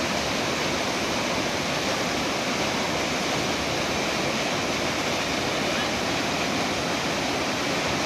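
Spring water at Infanta Falls pours in a steady, dense rush, loud and close, with no break across the whole stretch.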